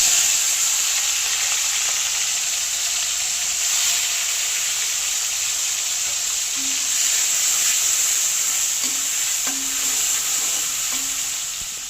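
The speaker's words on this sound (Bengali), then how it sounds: "তেল গরম হয়ে গেছে, এবার চিংড়ি মাছগুলো ভাজবো।" Shrimp rubbed with salt and turmeric fry in hot oil in a wok, giving a steady bright sizzling hiss at moderate level, with a few faint clinks and pops toward the end and no talking.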